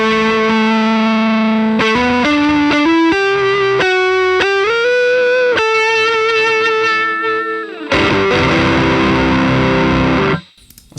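Electric guitar run through a fuzz pedal blended with overdrive on a Line 6 HX Stomp, playing loud sustained distorted chords and single notes that change every second or so, then a thick held chord that cuts off abruptly near the end.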